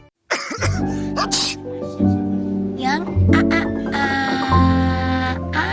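Repeated harsh coughing with throat clearing in a flu and cough medicine advert, several bursts in a row up close, mixed with voiced sounds and background music.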